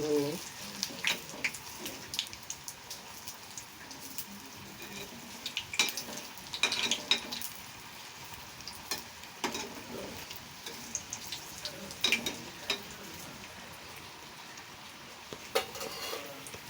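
Poornam boorelu, sweet dumplings, frying in oil on a gas stove at medium heat and being flipped: a soft, continuous sizzle broken by scattered clinks and scrapes of a utensil in the pan.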